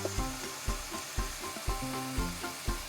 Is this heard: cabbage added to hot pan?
yes